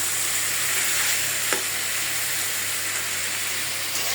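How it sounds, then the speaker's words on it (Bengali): Steady loud sizzling of onions and pigeon meat frying together in a pan, a continuous crackling hiss with a brief clink partway through, no voices. "এই পেঁয়াজ আর কবুতর একসাথে ভাজার সময়"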